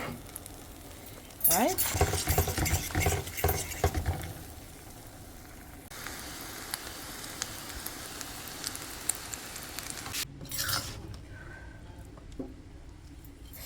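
Egg stirred and scrambled in hot oil for beef and egg fried rice, a steady close sizzle with bursts of scraping and louder frying, a short voice breaking in near the end.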